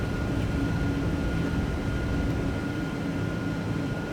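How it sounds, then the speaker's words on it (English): A twin-engine airplane roars steadily during a single-engine takeoff in thunderstorm conditions, a dense, constant engine drone with no talk. "we just completed a single engine takeoff"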